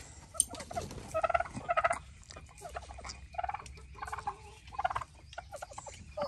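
Free-range turkeys gobble on a farm, several rapid warbling bursts in quick succession, moderately close against a quiet outdoor background.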